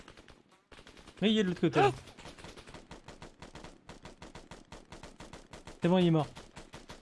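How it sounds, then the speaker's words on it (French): Automatic fire in the video game Arma 3 rattles out as a rapid, regular stream of shots at moderate distance, with louder bursts standing out, while players talk over it. "Oh putain, ça rafale."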